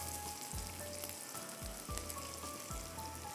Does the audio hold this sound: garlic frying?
yes